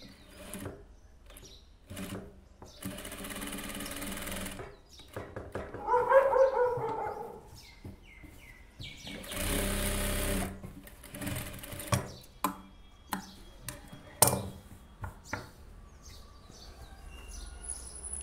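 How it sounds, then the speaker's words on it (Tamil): A sewing machine stitches the side seam of a blouse in short quiet runs of whirring, with a dog barking and birds calling faintly in the background of a fairly quiet room. "இப்போ இந்த சைடில் ஒரு தையல் போட்டு அதை க்ளோஸ் பண்ணி விட்டுருவோம்."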